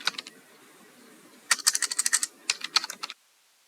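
Quick bursts of key taps on a computer keyboard as a function name is typed, a few light clicks, a pause, then two rapid clusters of close, crisp keystrokes in a quiet room.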